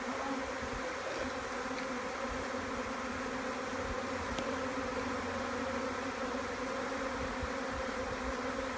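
Dense continuous buzzing of a honeybee swarm, steady and enveloping at close range with no pauses.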